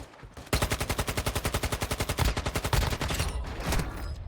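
Sustained automatic gunfire rattles in Warzone Mobile, a mobile first-person shooter, as a fast, evenly spaced burst of loud shots that carries on for several seconds after a brief quiet start.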